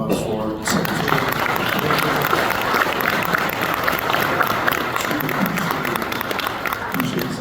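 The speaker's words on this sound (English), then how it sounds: "Let's give another round of applause for Secretary." Sustained applause from a breakfast audience at a regional chamber event, dense and steady for several seconds at moderate distance after a brief opening moment, filling the room evenly.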